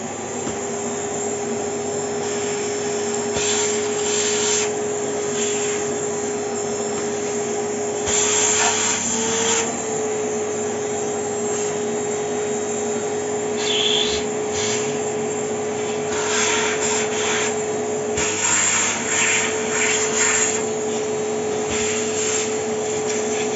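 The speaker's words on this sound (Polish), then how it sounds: "czyszczę go w zwykły, zwyczajny sposób. Odkurzaczem, tylko na mniejszej mocy." A vacuum cleaner on lower power cleans a computer, a steady close whirring drone with a constant tone running throughout, shifting slightly as the nozzle moves, with no talk.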